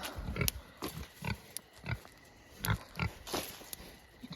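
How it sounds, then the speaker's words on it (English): Pigs grunt in short, irregular snorts and snuffles while rooting in the dirt, close up and fairly quiet, with no voices. "Pigs, you'll need to quit rooting."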